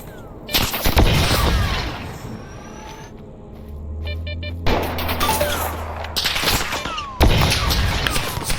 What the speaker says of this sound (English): they start firing back